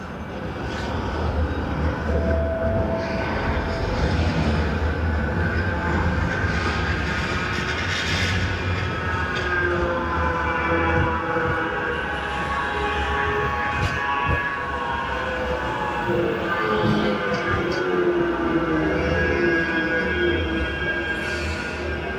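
Two Manchester trams pass each other on Piccadilly Place in the city centre, making a continuous rumbling, whirring roar with shifting tones, heard at moderate distance over steady street noise.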